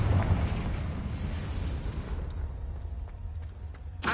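A Confringo fire spell explodes in the video game Hogwarts Legacy, a loud rushing blast that fades into a rumbling tail, ending with another sharp burst.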